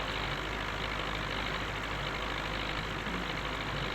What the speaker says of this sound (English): that was the last time I saw someone use this particular little tractor.